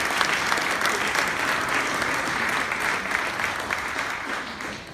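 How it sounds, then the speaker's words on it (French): A crowd at an evening party gathering applauds the activists who organised the event, steady dense clapping filling the whole stretch, close and fairly loud with no voices over it. "On peut peut-être les applaudir."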